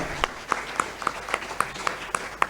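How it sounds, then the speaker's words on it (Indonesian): Audience applause for newly graduated doctors at a medical faculty graduation ceremony in a hall, a steady patter of clapping with distinct sharp claps standing out, moderately loud and sustained. "Beri aplaus untuk dokter-dokter baru kita."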